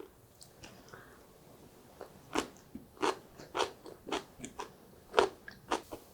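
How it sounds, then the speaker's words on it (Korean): Crisp bites and chewing of raw carrot dipped in soy-based seasoning sauce, served alongside hot peppers, come as a run of sharp, close crunches in irregular rhythm over about six seconds, without any talk. "당근하고 같이 찍어 먹어볼게요"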